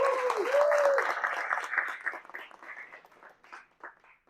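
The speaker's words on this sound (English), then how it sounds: "Let's hear a round of applause for Steve." Audience applause for a Fernbank Science Center observatory speaker at an Astronomy on Tap event in Atlanta, a burst of clapping that starts with a whistle-like tone and then thins into scattered, fading claps.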